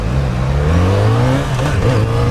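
A Yamaha XJ6 motorcycle on its original exhaust revs loudly and close, the engine note rising and falling in a continuous, steady drone with no voices over it.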